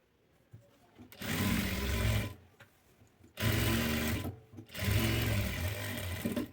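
A sewing machine stitches a dress side slit in three loud whirring bursts, each running a second or more, separated by short pauses of near silence.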